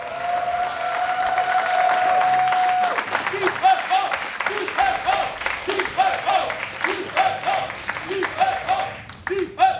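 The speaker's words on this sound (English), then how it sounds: "Give it up for TLO" A German crowd at a StarCraft esports tournament, the WCS Europe Premier League, breaks into loud sustained applause and cheering that swells and then thins into scattered claps, with a commentator's voice running over it.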